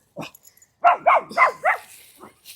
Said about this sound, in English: And my dogs have things to say today